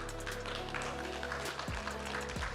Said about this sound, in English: The venue is clapping for them right now.